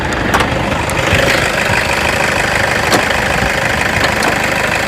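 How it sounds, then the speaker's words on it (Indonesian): A Toyota Innova G with a warm 2KD turbo diesel engine idles steadily close by, a continuous rough clatter with faint knocking ticks and no voices. "Ini suara engine sangat renyah, 2 kd."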